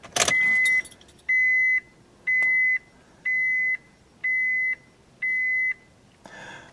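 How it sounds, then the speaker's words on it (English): A car's ignition key jangles as it turns to on without starting the engine. A loud electronic warning chime then beeps six times in an even rhythm, each tone about half a second long, close and clear with no engine noise. "you want to turn the key to on without starting the engine"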